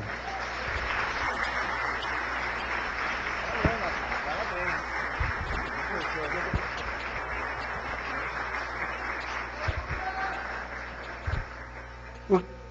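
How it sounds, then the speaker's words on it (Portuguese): A church congregation at a Foursquare Gospel service applauds, a steady, fairly distant wash of clapping sustained throughout, with a voice speaking over it. "vamos aplaudir de novo"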